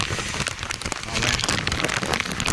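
Rain falling at a temple, a loud, dense patter of drops striking nearby surfaces in a steady, continuous wash with scattered sharper splashes.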